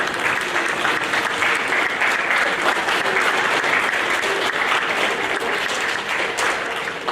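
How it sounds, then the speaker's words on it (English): Sustained applause from a large crowd at a seventh grade school awards program, steady clapping filling the room for several seconds without pause. "Round of applause for those students."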